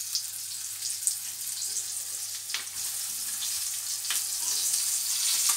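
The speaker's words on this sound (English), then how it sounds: "Now I'm going to put the other fish in the pan." Floured fish fries in a pan, a steady close sizzle and spatter with occasional crackles and light clinks, no one talking.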